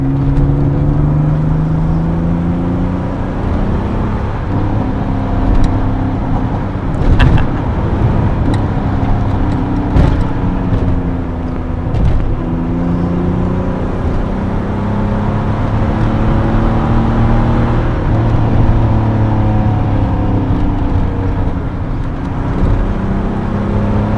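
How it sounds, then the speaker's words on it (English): A Pontiac Fiero's V6 engine pulls steadily through acceleration while driving, a continuous close drone with rising and falling tones, heard alone without talk. "What a great sounding V6."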